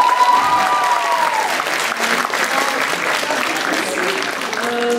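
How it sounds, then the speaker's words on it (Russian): An audience applauds at a concert, dense and steady clapping close by throughout, with faint lingering tones and some voices mixed in. "Похлопаем им."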